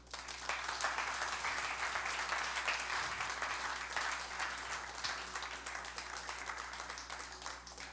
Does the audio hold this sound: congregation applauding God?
yes